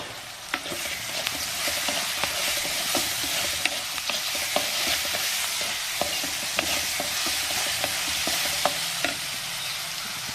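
Onion frying with ginger garlic paste and turmeric in a pan, a steady sizzle under repeated stirring taps and scrapes, close and continuous with no talking.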